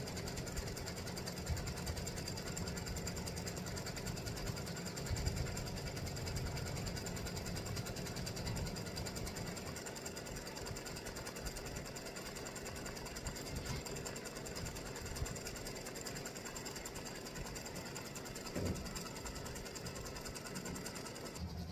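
A sewing machine running a satin stitch across the top of a fabric tic-tac-toe board, a continuous fast mechanical whir held steady throughout, with no talk.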